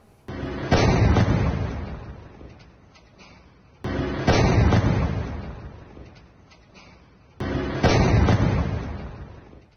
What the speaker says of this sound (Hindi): इजरायली सैन्य काफिले के पास यह विस्फोट हुआ